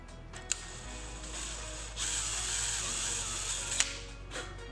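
A power drill bores a hole sized for a self-tapping screw, with a steady whirring grind that builds for about two seconds between short sharp clicks, close and moderately loud.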